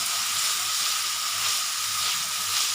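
Vegetables and potato sautéing in a pan for vegetable noodles give a steady, close sizzling hiss that runs unbroken throughout, with a faint low rumble beneath and no voices.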